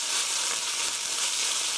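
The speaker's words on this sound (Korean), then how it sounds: "와, 맛있게 잘 볶아주겠습니다" Quesadilla filling seasoned with ground black pepper stir-fries in a pan, giving a steady, close, bright sizzle that holds evenly throughout with no talking.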